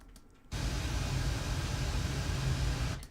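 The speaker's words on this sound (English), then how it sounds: "it's full-scale pink noise" Full-scale pink noise test signal bursts in after brief quiet and holds as a steady, dense broadband hiss for about two and a half seconds before cutting off.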